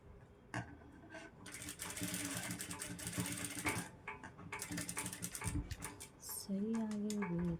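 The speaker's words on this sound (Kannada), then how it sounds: "ಈ ರೀತಿ ಟರ್ನ್ ಮಾಡಿದ್ಮೇಲೆ ಇನ್ನೊಂದು ಸ್ಟಿಚ್ನ ಹಾಕ್ಕೋಬೇಕು." Sewing machine stitching a designer blouse sleeve, a soft rapid mechanical chatter running in bursts with short pauses, close but quiet.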